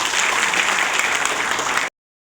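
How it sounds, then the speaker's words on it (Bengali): Seminar attendees in Bogura clap for public representatives at a session on northern regional development: a loud, dense burst of applause that holds steady for about two seconds, then cuts off abruptly. "এই সমস্ত জনপ্রতিনিধির জন্য একটা করতালি দেওয়া উচিত"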